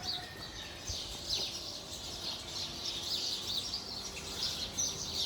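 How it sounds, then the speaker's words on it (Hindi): Small birds chirp and tweet in the morning air, a scatter of faint, brief high calls repeating irregularly at a moderate distance over a steady outdoor background hiss, with no voices. "चिड़ियों की खूबसूरत आवाज़ सुनाते हैं आपको"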